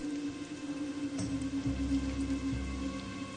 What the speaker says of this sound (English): I hear the rain, but I don't see the rain.